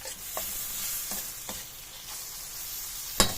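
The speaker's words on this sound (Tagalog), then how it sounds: "ito po ay haluin po ulit natin para po mag-combine na po dito sa ating karne" Meat being stirred with oyster sauce in a frying pan for adobong kalabasa, a steady sizzle running throughout with a few soft scraping strokes and a sharper clatter near the end.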